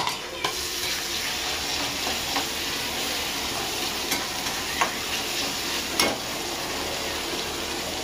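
Chopped onion and tomato fry in a pan with salt, making a steady loud sizzle close by, with occasional sharp clicks and scrapes from stirring.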